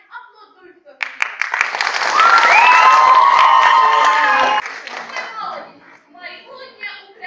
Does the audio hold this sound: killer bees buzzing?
no